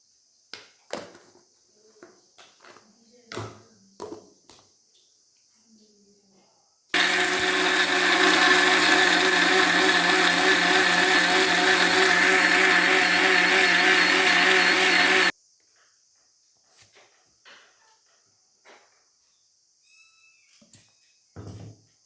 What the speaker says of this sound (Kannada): ಈಗ ಮಸಾಲೆ ರುಬ್ಕೊಳ್ಳೋಣ.